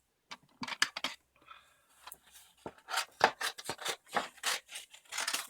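Scissors snipping paper shapes, close and crisp, a string of irregular cuts and blade clicks with brief pauses and rustling of paper between them.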